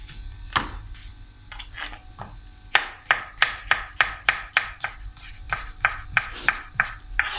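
A knife chops capsicum into julienne strips on a board, a few uneven cuts followed by a steady rhythm of about a dozen crisp, close chops, fairly quiet.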